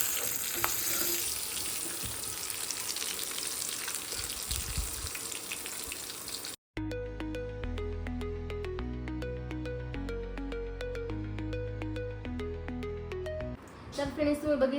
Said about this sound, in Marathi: आता त्याच्यामध्ये कढीपत्ता टाकते मी. आता त्याच्यात आपण मिरची टाकायची आहे.